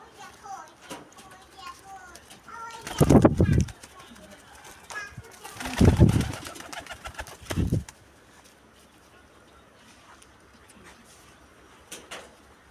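Pigeons, including Jalali birds, coo softly near a person feeding them, with a few louder bursts like flapping wings or bird movement while a person talks.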